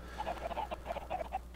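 Chickens in the Minecraft video game clucking in a quick string of short repeated calls, several birds close together, with no talk.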